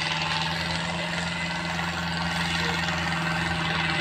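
The engine of a Powertrac Euro 60 tractor drones steadily and loudly outdoors, a constant throbbing hum with no breaks and no voices.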